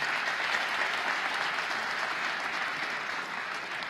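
Audience applause at a State of the State event in the Bronx, a dense, even roar of many hands clapping that holds steady throughout.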